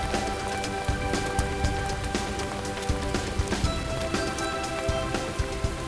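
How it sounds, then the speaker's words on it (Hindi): Steady rain pattering on a hard surface, a dense, even patter of drops with occasional louder splashes close by. "बारिश कहाँ से आ गई चलो यार?"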